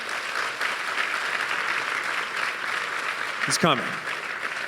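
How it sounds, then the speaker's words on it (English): An audience gives a film director a steady, sustained round of clapping at a screening event, loud and even throughout, with a brief spoken remark near the end. "Big round of applause."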